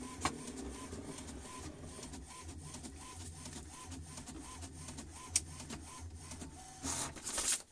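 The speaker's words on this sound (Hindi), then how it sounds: "देखिए अभी प्रिंट होकर निकल रहा है" An HP ink tank printer feeds and prints a page, its print head shuttling back and forth in a regular mechanical rhythm with a low motor hum, ending in a brief rattle as the sheet comes out.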